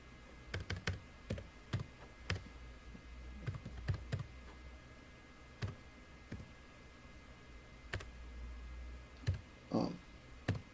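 Sparse, quiet keystrokes tap on a computer keyboard, single clicks and short clusters spaced irregularly over a faint steady background hum.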